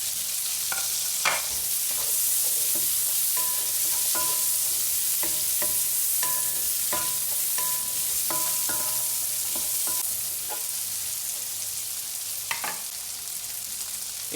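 Onion and red chili fry in a pan with a steady, close sizzle, scattered with sharp crackles and scraping stirs throughout.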